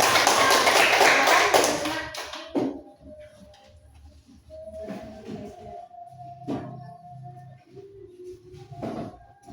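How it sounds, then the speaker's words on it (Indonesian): Applause for group 1 during a classroom presentation, a short burst of clapping from a group that fades within about two seconds, followed by quiet room sounds, a few taps and soft voices. "Beri aplaus untuk kelompok 1."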